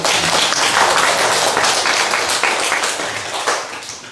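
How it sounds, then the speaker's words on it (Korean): Church congregation applauding to welcome a newborn at his first worship service, a dense, steady wash of many hands clapping that fills the room for several seconds, slowly easing off toward the end. "박수로 한번 받는다."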